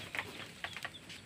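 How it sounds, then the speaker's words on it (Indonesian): Chickens cluck and chirp in short, faint bursts near an excavator work site, a few quick calls scattered over a second. "Dan di sini juga ada pitik-pitik ayam malas"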